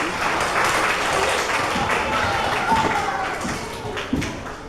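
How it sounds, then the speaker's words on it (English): Audience of parents applauding at a school children's language program performance, a sustained crowd clapping with scattered louder claps and some murmuring voices mixed in. "And now, a big applause for yourself,"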